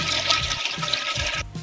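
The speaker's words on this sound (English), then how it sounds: "So I put a new sound effect on my soundboard here of a toilet flushing." Toilet flush sound effect played from a soundboard, a short gurgling rush of swirling water that cuts off abruptly after about a second and a half, with no voices.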